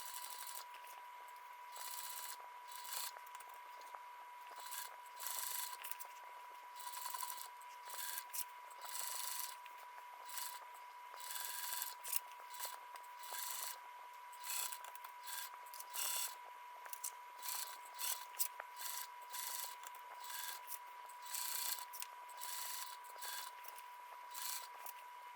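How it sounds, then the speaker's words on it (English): A sewing machine stitches around a tote bag seam with a quarter-inch allowance, running in a steady close mechanical whir broken by brief pauses and restarts throughout. "you want to stitch all around with about 1/4 inch seam allowance"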